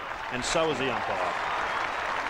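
North Melbourne cheer squad at an Australian football match cheering after a goal, a steady crowd roar and applause underneath a commentator's voice that talks over the start.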